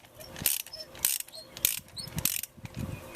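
A ratchet wrench turns counterclockwise to loosen a spark plug on a Toyota engine, giving close, repeated bursts of clicking pawl ratchets in uneven strokes, with short pauses between pulls.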